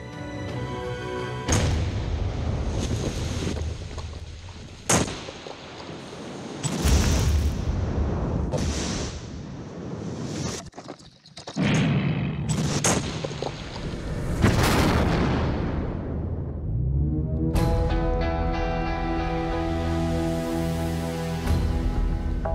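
An explosive charge blows up an illegal mine trench in the mountains, heavy booming blasts and rumbling roars rolling out loud and long, with crashing debris and a ringing, sustained tail.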